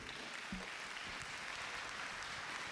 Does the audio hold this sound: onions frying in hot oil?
no